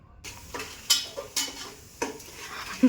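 Masala frying in a home kitchen pan, a low sizzle punctuated by several distinct scraping stirs and metallic clanks of a spoon against the pan, close by and without talk.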